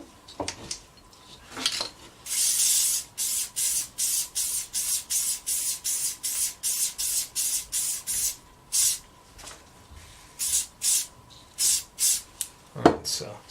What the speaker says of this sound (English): spray both of these sides